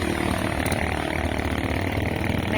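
A motorcycle rides along a rural road on a farm, its engine producing a steady droning rumble with wind noise, continuous and fairly loud.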